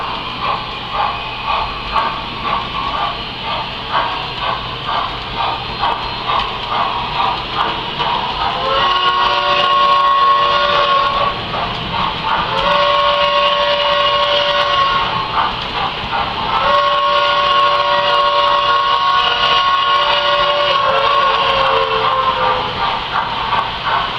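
Standard gauge 392E model steam locomotive pulling seven cars around a loop, with steady rhythmic chuffing synced to the turning drivers and a long sustained whistle tone sounding repeatedly in the middle, loud and close, no talking.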